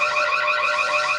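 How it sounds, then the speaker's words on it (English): Steady electronic alarm tone with a strong pitched whine and warbling upper harmonics, loud and continuous throughout with no talking over it. "that's an alarm sound"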